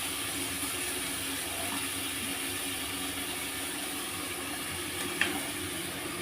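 A little water hits frying spices in a pan, raising a steady, even sizzle and hiss that holds throughout, for a dish of elephant foot yam with shrimp; no voices.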